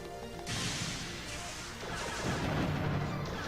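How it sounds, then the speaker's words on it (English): A cannon launch in the video game Custom Robo bursts out as a loud booming crash, followed by a rumbling second impact a couple of seconds later, with dense game noise in between. "we get to launch ourselves out of a cannon"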